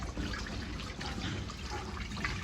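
Water runs and splashes steadily as sweet potato leaves are washed in a basin, a close, continuous rushing wash with no talking.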